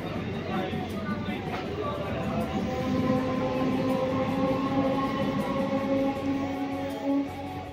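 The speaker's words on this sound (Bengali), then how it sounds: "সামনে দিয়ে একটা ট্রেন চলে গেল" A train rolls past at Habra railway station in West Bengal, a steady loud rumble with sustained tonal hum and rail noise throughout, with voices and station chatter underneath.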